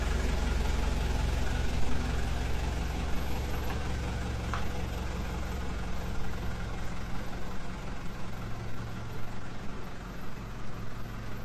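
A truck engine runs steadily during a test, a continuous low rumbling drone with a slight rough throb, fairly loud and close, with no talking over it.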